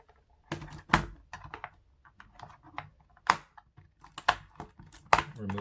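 Sharp plastic clicks and snaps come from a Logitech G915 TKL gaming keyboard being pried open with a soft plastic picking tool. The irregular bursts are close and crisp, with quiet pauses between them.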